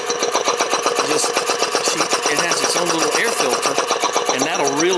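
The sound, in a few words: 1940 car engine running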